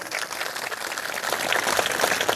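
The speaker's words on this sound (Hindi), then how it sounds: "आप लोग जोरदार तालियों से स्वागत करें" A crowd at a Birsa Munda birth anniversary gathering claps to welcome the guests seated on stage, a steady, fairly faint wash of applause that swells slightly toward the end.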